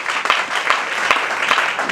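Congregation applauding during a Sunday church service, a dense, steady wash of many hands clapping together, sustained and fairly loud with slightly irregular bursts throughout.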